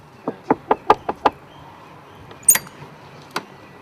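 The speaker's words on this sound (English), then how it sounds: "next thing you know, you've got the AD knocking on your door" Knocking on a door: about six quick, sharp raps in an uneven burst, followed by a few fainter isolated knocks and clicks a moment later, close and clear with no talking.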